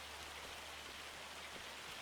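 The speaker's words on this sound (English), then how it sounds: "this is tiny hail." Tiny hail falls in the Farming Simulator 25 video game, a steady dense hiss like heavy rain pattering on surfaces, even and quiet throughout with no talking.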